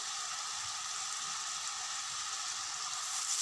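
Vegetables frying in a pan with light soy sauce and vinegar give a steady, close sizzle that holds unbroken with no voices.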